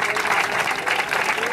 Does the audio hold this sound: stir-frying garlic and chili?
no